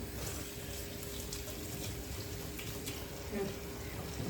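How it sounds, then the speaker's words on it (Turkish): Running tap water splashes steadily at a low level, with faint clinks and shuffling of hands moving under the stream. "şöyle elimde yıkayayım hemencik"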